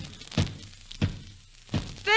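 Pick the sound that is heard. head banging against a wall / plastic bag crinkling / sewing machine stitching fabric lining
head banging against a wall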